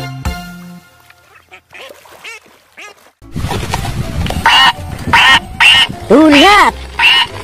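A toy duck gives a few loud, close quacks in quick succession after a stretch of softer children's-song audio, with someone talking over the toy sounds.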